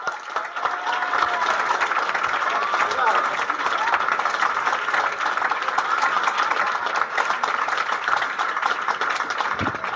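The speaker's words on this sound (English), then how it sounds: "Let's have a big round of applause for Jerry Seinfeld." Audience applause for comedian Jerry Seinfeld on a live comedy stage show, a steady, full crowd ovation lasting the whole stretch, loud and even with faint voices mixed in.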